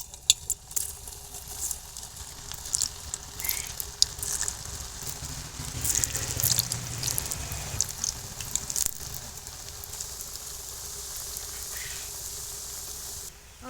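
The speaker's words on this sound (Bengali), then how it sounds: "এবার সুজির মিষ্টিগুলো ভেজে নেব" Semolina sweets frying in a wok of hot oil, a steady bubbling sizzle that builds and holds for several seconds with no talk.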